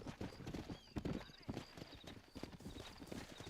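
Horse hooves clip-clopping in the video game Red Dead Redemption, a steady stream of hoof beats with a horse whinnying, heard under continuous talking.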